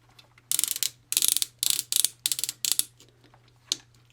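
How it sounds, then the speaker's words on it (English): Ratcheting swivel joints on a Transformers Legacy Commander Class Motormaster toy give a series of about eight short bursts of rapid plastic clicking, close and distinct, with small pauses between turns. "I still can't get over the ratcheting wrist swivels. That is a modern toy making those noises."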